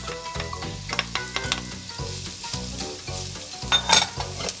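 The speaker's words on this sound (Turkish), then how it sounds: "3 yemek kaşığı kızdırdığımız zeytinyağının içine 2 tane doğranmış soğan ve 4 diş doğranmış sarımsak ekliyoruz." Chopped onion and garlic sizzle loudly in hot olive oil, a close, continuous crackling fry with occasional stirring clinks and no talking.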